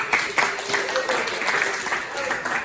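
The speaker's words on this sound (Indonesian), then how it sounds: "Ya betul, tepuk tangan." Pupils in a classroom break into steady applause, a dense patter of many hands clapping continuously at moderate loudness, with voices mixed in beneath the clapping.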